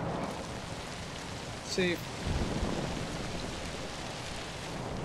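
Steady rain in the game Zombi hisses as an even wash of noise throughout, with a voice briefly speaking once partway through.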